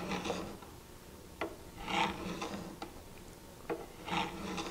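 A burnishing tool is drawn lightly across the edge of a card scraper in several soft scraping strokes, close and fairly faint, with no talking.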